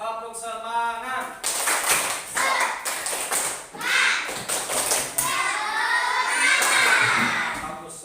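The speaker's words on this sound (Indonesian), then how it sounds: "Tepuk semangat." Schoolchildren perform a rhythmic spirit clap together, bursts of quick patterned clapping mixed with young voices calling along, loud and close in a classroom.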